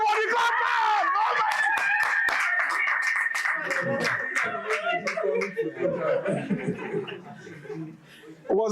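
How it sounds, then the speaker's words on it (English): A group at a photography workshop claps in a burst of sharp, uneven hand slaps mixed with laughter and chatter, the clapping thinning out toward the end. "Everybody clap back!"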